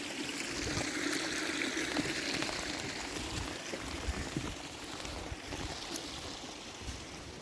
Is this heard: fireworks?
no